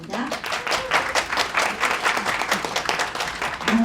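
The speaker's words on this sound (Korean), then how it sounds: "박수 뜨겁게 부탁드리겠습니다." Audience applause cheering on startup teams at a demo day event: a short run of clapping from a moderate crowd, fairly steady and mid-distance, with a voice entering faintly at the close.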